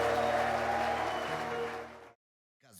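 A church congregation breaks into loud, dense, sustained applause with ululation woven through it for about two seconds. The sound then cuts off abruptly into silence before faint noise returns.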